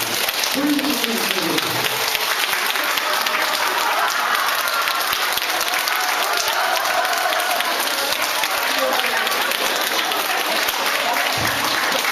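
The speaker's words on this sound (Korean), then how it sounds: "여러분 큰 박수로 환영해 주십시오." An audience at a Korean lecture hall gives a warm round of applause welcoming a singer on stage, dense steady clapping that fills the whole stretch without pause.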